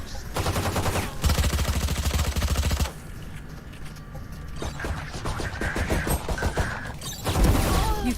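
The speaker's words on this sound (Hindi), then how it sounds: "शॉट आ रहे लोग" Automatic weapons fire in Valorant, the tactical shooter video game: loud, close rapid-fire bursts rattle in several runs, broken by short pauses and scattered single shots and mechanical clicks, with no talking.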